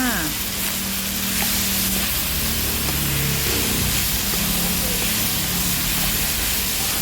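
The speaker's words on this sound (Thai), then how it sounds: "พริกไทยป่นค่ะ ผัดต่อไปค่ะ" Noodle roll filling of bean sprouts, tofu and minced pork is stir-fried in a pan, giving a loud, steady sizzle with scraping stirring sounds throughout, and a low hum running beneath.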